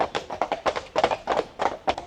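Horses' hooves clip-clop in a quick, uneven rhythm on a hard surface in Brittany, France, a run of sharp taps close by with no talking over them.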